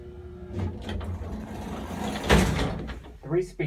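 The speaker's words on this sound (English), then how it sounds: "Three-speed door, that's very interesting." A 1950s Otis elevator's three-speed door slides along with a steady rumbling hum that rises to a louder thud near the end of its travel, heard close inside the car.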